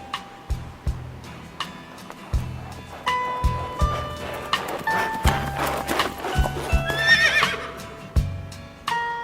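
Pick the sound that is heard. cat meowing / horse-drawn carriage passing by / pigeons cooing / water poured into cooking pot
horse-drawn carriage passing by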